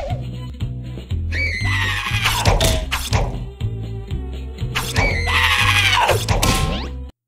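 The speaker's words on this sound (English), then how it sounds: "listen to the scream they make when they hit you" Cartoonish scream sound effects from a SpongeBob Flash game, Plankton's Fun House, play twice over bouncy game music with thumping beats, each a loud squealing cry.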